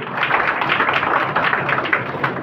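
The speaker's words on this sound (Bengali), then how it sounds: "জোরে হাততালি দিন" Audience applause at a political rally in Khanakul, a dense, steady wash of many hands clapping that carries evenly through the whole stretch without a break.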